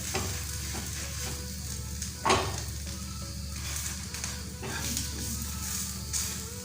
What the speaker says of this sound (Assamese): এতিয়া পানী পিঠা ধুনীয়াকৈ এতিয়া লুটিয়াই দিছোঁ।